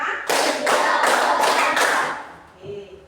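Children in a classroom clap in five distinct, evenly spaced bursts led by a teacher, each clap loud and close, ending with a brief softer tap.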